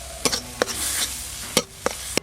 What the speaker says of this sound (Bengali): এইভাবে নাড়তে নাড়তেই দেখুন টক ফলগুলো পুরো গলে গেল।